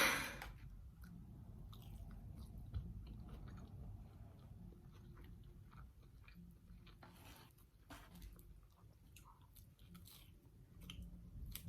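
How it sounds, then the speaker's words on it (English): Someone eats quesadillas with salsa close to the microphone, giving faint, steady chewing and soft crunching bites over a quiet room, with no speech. "I'm gonna be eating some quesadillas with salsa"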